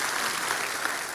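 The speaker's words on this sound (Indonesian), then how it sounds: "Beri tepuk tangan yang meriah buat Tuhan." A church congregation claps loudly during a worship service, a dense, continuous wash of applause with no gaps.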